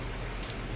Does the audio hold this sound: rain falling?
yes